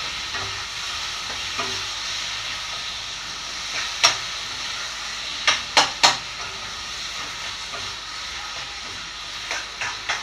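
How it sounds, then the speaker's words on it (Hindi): Onion, tomato and pumpkin fry together in a pan, a continuous moderate sizzle with occasional sharp spoon taps and scrapes clustered in the middle and near the end, heard up close with no speech. "इसको सिर्फ 5 मिनट तक हमें भूनना है"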